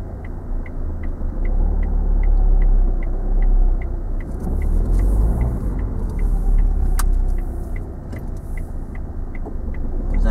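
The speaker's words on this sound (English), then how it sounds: "Was that a nice bit of tires and tarmac there?" Steady road noise from car tires rolling over tarmac, a low continuous rumble with faint regular ticking throughout.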